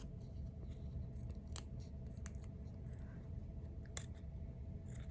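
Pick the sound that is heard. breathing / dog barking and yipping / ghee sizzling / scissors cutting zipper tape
scissors cutting zipper tape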